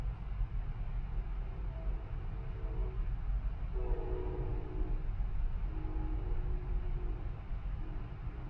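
A train rumbles steadily past at moderate distance, with low continuous rolling noise and faint horn-like tones rising and fading midway.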